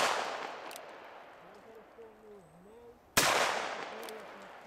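Two sharp gunshots fired at a pumpkin target outdoors, one at the start and a louder, nearer crack about two-thirds through, each decaying quickly over faint background ambience.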